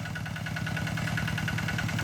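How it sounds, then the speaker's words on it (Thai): A Kubota RT90 walking tractor engine idles steadily close by, a continuous pulsing chug with an even rhythm and no voices. "จะไม่มีรอยล้อนะครับรถไถเดินตาม มากับล้อเหล็กนะครับ"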